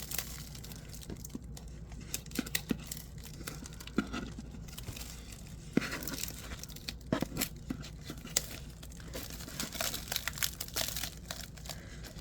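Scissors cutting and tearing through many layers of packaging during an unboxing, heard as close, irregular crinkling, crunching snips and rips with brief pauses, no talking.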